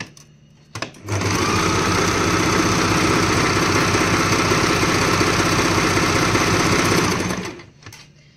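A Usha Janome Stitch Magic sewing machine running a G stitch, a loud continuous mechanical whir lasting about six seconds, starting and stopping abruptly, with no talking.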